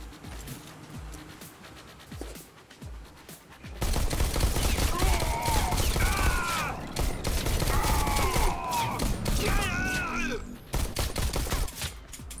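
Virtual guns firing in the Bullet Train VR game, quiet at first, then sudden dense volleys of rapid shots that go on for several seconds, loud and close, mixed with mechanical game effects.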